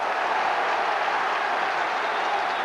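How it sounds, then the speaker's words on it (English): Dense, steady applause from a large football crowd at a 1998 Middlesbrough v Derby County match, a broad even roar of clapping filling the stadium throughout with no voices above it. "earning applause for his tackling back"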